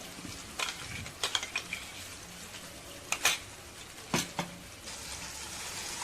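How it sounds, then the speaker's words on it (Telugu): Ground tomato paste fries in oil over the tempering for a restaurant-style tomato gravy curry, a quiet steady sizzle broken by several sharp spoon scrapes and clacks against the pan. "పైకి నూనె తేలేటంత వరకు వేయించుకోవాలి"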